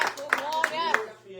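A church congregation at a Pentecostal service claps in a steady rhythm, about three sharp claps a third of a second apart, beneath a loud voice.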